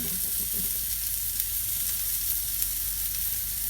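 A beef burger sizzles steadily as it fries in oil, a close, constant crackle with faint stirring near the start and no voices.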